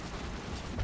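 A shotgun blast in the video game Mass Effect, a dense, noisy burst with heavy low-end weight that swells toward the end of a short stretch, heard alone without any voices.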